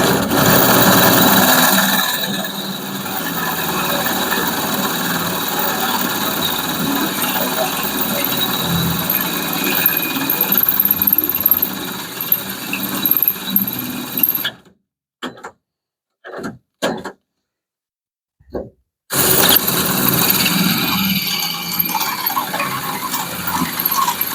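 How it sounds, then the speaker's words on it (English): A power drill bores half-inch holes through the inside of a 1975 Plymouth car frame, a loud steady whirring grind that runs for about fourteen seconds, then cuts in and out in short bursts before starting again. "Drill that one out."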